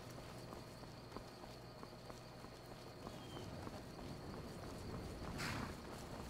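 Horse hooves in Skyrim: a steady, rhythmic clip-clop of walking steps, fairly faint, over a dense ambient game background with a brief louder swell near the end.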